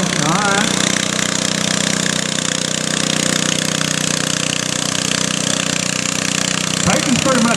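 A Cub tractor fitted with Case sheet metal, a 10 HP puller, runs with a loud, steady, rattling engine drone close by, with voices heard faintly under it.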